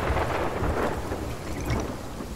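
Rain and thunderstorm at sea in the game Sea of Thieves, a steady, loud wash of rainfall with low thunder rumbling beneath it throughout, no voices.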